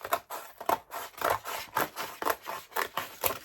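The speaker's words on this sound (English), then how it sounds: "This little anomaly, I'm just going to cut down the centre" Rhythmic rasping cuts through a corrugated material for a barn-style vessel, about a dozen short strokes in a steady back-and-forth pattern, close and fairly quiet, with no talking.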